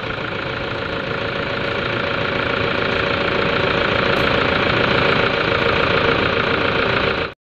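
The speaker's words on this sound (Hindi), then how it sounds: "हम आपको इसकी एक बार इंजन नॉइज सुना देते हैं।" A 2013 Toyota Fortuner's four-cylinder diesel engine idles steadily as heard from inside the cabin, a continuous, even mechanical drone with a light knocking texture that runs alone and unbroken for about seven seconds before stopping abruptly.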